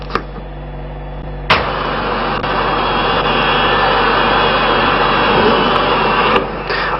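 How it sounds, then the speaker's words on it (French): An El Al Boeing jet takes off at Paris-Orly airport, its loud, steady broadband roar holding throughout with a sharp knock early on and no voices, in a muffled, narrow-band old recording. "Ça décolle quand même les Boeing d'El Al."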